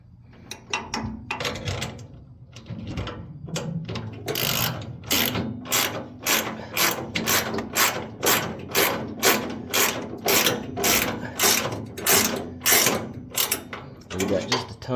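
A ratchet wrench tightens bolts during an FFR Type 65 gas pedal install, giving loud, close bursts of rapid clicking that repeat in a steady back-and-forth rhythm with brief gaps between strokes.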